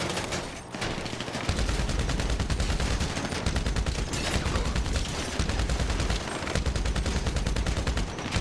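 Sustained automatic gunfire from a GTA Online firefight on PS5, loud dense bursts of shots hammering almost continuously for the whole stretch with only a brief lull near the start.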